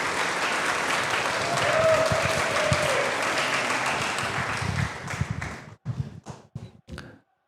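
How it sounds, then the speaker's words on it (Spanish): Sustained applause from a crowd at a football club's team presentation, steady and full, then thinning into a few scattered final claps before stopping. "Fuerte el aplauso."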